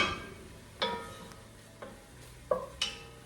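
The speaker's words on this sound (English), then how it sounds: "I like to uncover halfway through and give them a good stir." Mushrooms and onions cook in butter, with a faint sizzle under several distinct scraping clinks as a utensil stirs them in the pan, spaced irregularly and close by.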